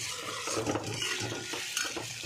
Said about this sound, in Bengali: আলুটা এবার একটু ভালো করে ভেজে নেব